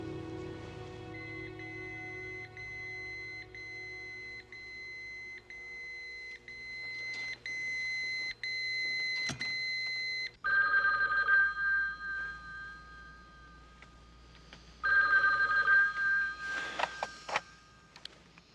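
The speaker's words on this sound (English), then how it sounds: "John, that beeper that Pinzolo gave you, it just went off." A pager beeper goes off with loud electronic tones, first a steady multi-tone chirping and then two separate bursts of shrill, warbling beeps, close and alone with no voices.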